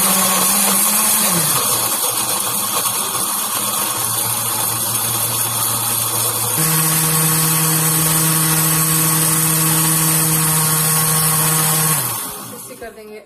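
A loud blender motor whirs steadily for about twelve seconds while mixing mango lassi, its pitch shifting a couple of times before it winds down and stops.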